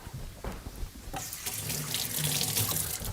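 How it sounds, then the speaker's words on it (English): Tap water runs steadily into a sink while hands are washed under it, a close, continuous splashing hiss with no talking. "So what I like to do at this point is just go ahead and give yourself a quick little wash."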